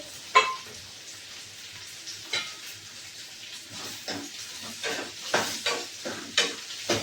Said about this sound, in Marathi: आणि तेल मस्त गरम झालं तर गवार टाकते.